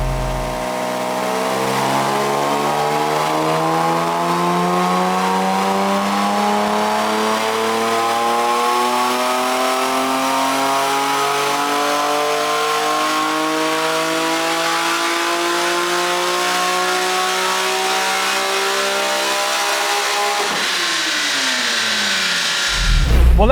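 A BMW Z4M engine fitted with a CSL airbox climbs steadily on a dyno power run, pitch rising smoothly for about twenty seconds before dropping sharply as the throttle lifts, loud and close with no talking.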